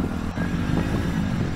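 Motorcycle engine in an Indian tractor video game, a short steady droning hum with faint pitch wobble, moderately quiet and alone.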